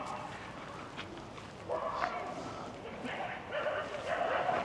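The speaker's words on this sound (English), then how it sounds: "Got the lovely sound, peaceful sound of barking dogs as usual." Dogs bark and yip in the distance, several short bursts spread across the clip, with a person talking over them.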